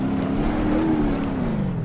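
A police car drives through snow in BeamNG.drive, its engine droning steadily at a constant pitch that dips slightly toward the end, loud and close with no talk.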